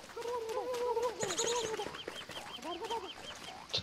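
In the game Don't Starve: Reign of Giants, a turkey gobbles in rapid, warbling bursts of clucking calls that repeat in a quick rhythm, close and moderately loud.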